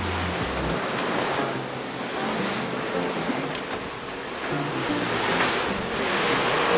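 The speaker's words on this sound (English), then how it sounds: "The water is known to be very choppy because of the wind." Rough surf on the Caspian Sea churns steadily beneath strong gusting wind that buffets the microphone, heard from a cargo ship, a continuous loud wash of choppy water with no voices.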